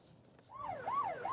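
A coast guard patrol boat's siren wails as it chases a fishing boat at sea, rising in and then sweeping up and down in loud, repeated swooping cycles with no voices.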